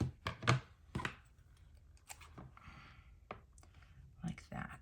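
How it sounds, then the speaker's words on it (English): Scissors snip planner paper to size in a few sharp cuts, close and quiet, with a person talking softly between the snips. "I want to make sure that this will fit though, so I'm going to have to cut some of that off."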